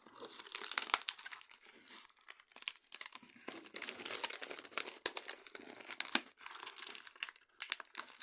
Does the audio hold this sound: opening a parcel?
yes